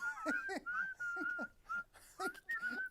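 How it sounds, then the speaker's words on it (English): A person whistles a bouncy tune in short, bright phrases. The whistling is close and clear, with faint voices and laughter underneath, as background music for sports highlights on an ESPN show. "So we got someone whistling."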